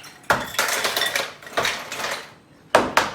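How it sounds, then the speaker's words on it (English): Ice cubes dropped into a Jimmy Buffett Margaritaville blender for a strawberry daiquiri, giving several loud, close clattering crashes in bursts with brief pauses between them. "First, we're going to start with ice."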